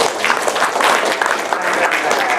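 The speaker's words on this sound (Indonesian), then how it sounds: "Tepuk tangan dong." Audience clapping at a health-service talk in Jakarta, a lively burst of many hands with uneven swells, fairly loud and close, lasting a couple of seconds with some voices mixed in.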